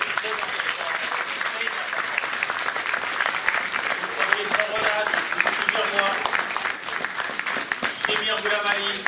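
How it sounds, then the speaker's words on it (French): Audience applause at a Paris pétanque tournament, a dense steady wash of many hands clapping throughout, with crowd murmur and voices mixed in underneath. "J'attends vos applaudissements, s'il vous plaît."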